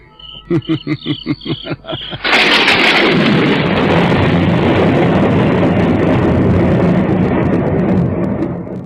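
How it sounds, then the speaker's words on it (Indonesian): A sudden, deep roll of thunder bursts in after a few seconds of soft rhythmic chirping, then rumbles on loudly and steadily. "Petir itu hanya mengerikan suaranya."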